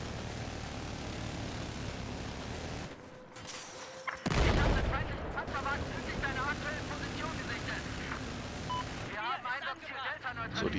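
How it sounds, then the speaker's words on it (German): Anti-aircraft flak gunfire in Battlefield 4 on the Altai map, rapid bursts of shots mixed with aircraft engine roar and loud explosions, under someone talking. "Die Flak hält schon ordentlich drauf."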